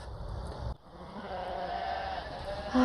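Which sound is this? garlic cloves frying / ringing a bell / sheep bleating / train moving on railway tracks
sheep bleating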